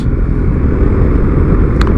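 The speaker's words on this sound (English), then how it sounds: "It's leaving the bike in the gear that it's in this case fourth gear, and just rolling on and off the gas" Steady motorcycle engine held in fourth gear with the throttle eased on and off, a continuous low drone close by with gentle swells and no speech.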